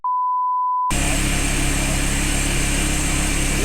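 Supercharged V10 Dodge Viper engine on a dyno, a loud sustained roar that begins abruptly after a brief steady tone and holds at full volume to the end.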